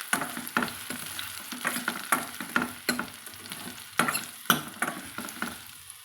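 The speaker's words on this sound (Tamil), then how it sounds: "இதையும் சேர்த்து நம்ம எண்ணெயில் கொஞ்சமாக ஃப்ரை பண்ணிக்கலாங்க." Raw-banana kola balls frying in oil, with a steady sizzle broken by regular scraping strokes of a ladle against the pan, close and fairly loud.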